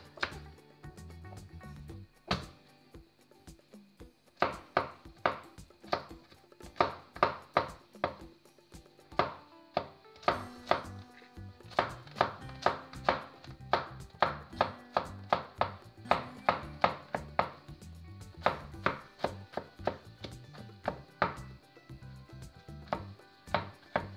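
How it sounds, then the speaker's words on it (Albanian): Garlic is crushed and then chopped on a board for stuffed aubergines with rice and minced meat. Many sharp, close knife strikes land in a fast, uneven rhythm, in bursts with short pauses, and no one talks. "Shtypim hudrat dhe më pas i grim."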